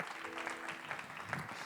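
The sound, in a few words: church audience applauding to welcome the pastor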